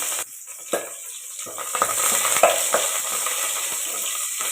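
Whole spices such as cinnamon sticks frying in hot oil with coriander added, crackling and sizzling close by while a spoon scrapes and stirs the pan, with no voices.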